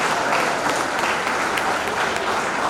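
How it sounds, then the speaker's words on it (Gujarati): Steady, dense applause from a seated audience at a school award ceremony, a continuous close clapping crowd lasting a few seconds with no talk over it. "એમના માટે જોરદાર તાળીઓ"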